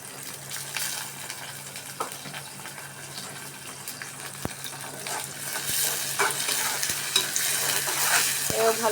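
Cleaned, cut prawns fried and stirred in a pan for an eggplant curry, a continuous sizzling hiss with occasional sharp taps of a utensil and watery bubbling that swells toward the end.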